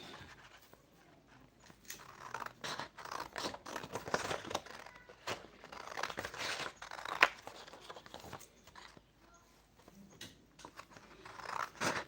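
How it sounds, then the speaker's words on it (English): Paper scissors cutting paper for a shoe pattern, quiet close snips and crinkling rustles in irregular bursts, with soft handling noises between the cuts. "I think I need my paper scissors."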